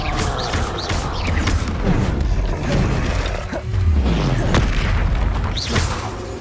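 A Confringo fire-spell explosion in Hogwarts Legacy, heard as loud, dense booming blasts with crackling debris and whooshing spell effects, continuous battle chaos throughout, close and powerful.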